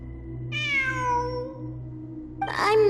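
A cat gives a long, drawn-out meow that wavers and trails off, then a second, harsher meow. Both are close and clear over a steady low hum, with no talking.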